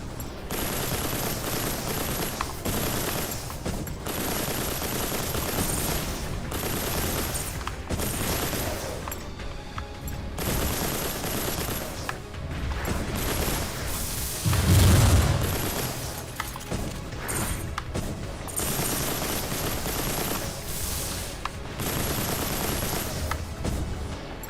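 Sustained video game gunfire in Mass Builder, dense rapid bursts continuing throughout with a heavier boom near the middle, loud and close with no talking.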